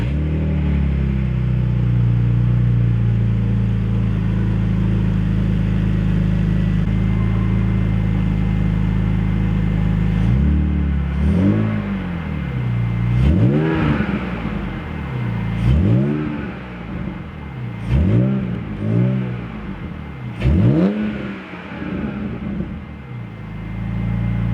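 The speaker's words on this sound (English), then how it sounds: "I'll show what the clutch is sounding like when I let off the clutch pedal" BMW E46 330 with an M54B30 engine and ZF five-speed gearbox, heard up close from inside: a steady idle hum, then repeated engine rises and dips as the clutch pedal is let off and the revs swing. No one speaks.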